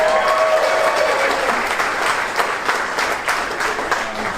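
Audience at a comedy club clapping in steady, dense applause, loud and sustained for several seconds with only faint crowd murmur and no speech.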